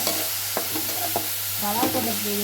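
Onions with salt sizzle steadily in a hot pan while a utensil scrapes and stirs them in short strokes, close and fairly loud.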